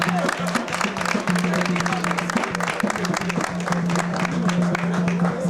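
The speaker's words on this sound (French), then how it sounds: "Je voudrais qu'on l'accueille avec vos ovations, s'il vous plaît." An audience claps steadily in welcome at a donation ceremony at Yaoundé's central prison, a dense patter of applause with a sustained low tone humming beneath it.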